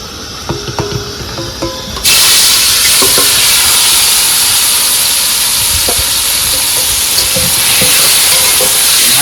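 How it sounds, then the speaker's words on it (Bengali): Marinated magur fish drop into hot oil in a wok and burst into a loud, steady sizzle that continues without a break after a quieter moment of kitchen clatter. "বন্ধুরা কড়াইতে কিন্তু তেল দেওয়া হয়ে গেছে আর এবার দিয়ে দেবো আমাদের সেই মাখানো মাছগুলো"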